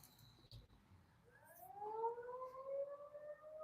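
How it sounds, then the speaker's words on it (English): A tornado warning siren goes off outdoors, heard from inside a workshop as a faint, distant, steadily rising wail that swells and holds with a slight waver. "Tornado siren going off."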